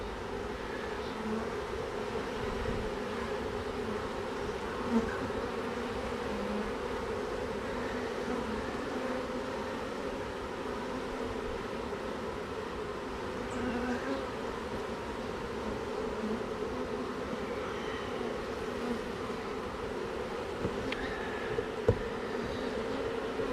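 Honey bees buzz from an opened hive, a continuous low drone with a few faint knocks, steady and moderately quiet throughout, with no one speaking.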